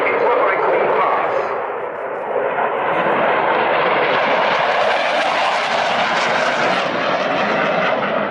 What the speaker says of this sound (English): Punching in the reheat on the two EJ200 engines and showing us just how quickly the aircraft can accelerate